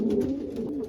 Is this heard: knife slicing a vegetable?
no